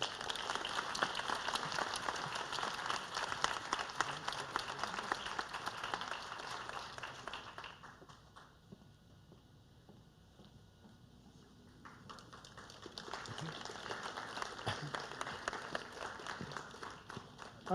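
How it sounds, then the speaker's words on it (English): Sustained audience applause at an academic excellence award ceremony, loud and dense for about eight seconds, dipping to a quieter lull, then swelling back into strong clapping. "Let's give Tumulum a round of applause"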